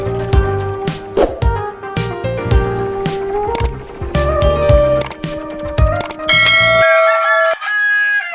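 Cockerels crow repeatedly at close range on a poultry farm in the early morning, loud overlapping cock-a-doodle-doos with clucking fowl around them, while a bell-like ringing tone also sounds throughout.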